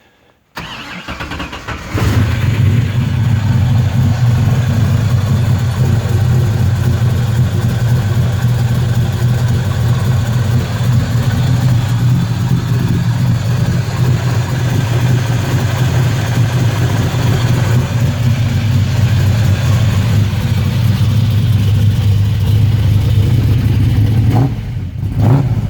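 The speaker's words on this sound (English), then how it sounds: "All right, cold start, please." A 1967 Mustang S-code with a fuel-injected aluminum 427 V8 and Tremec 5-speed fires on a cold start and settles into a loud, steady, deep idle that holds close and unbroken for over twenty seconds.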